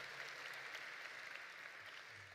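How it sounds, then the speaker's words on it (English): Audience at a 2026 high school graduation ceremony clapping, a steady wash of dense applause from many hands throughout, fairly faint and distant, with no talk over it. "We'll allow a clap there."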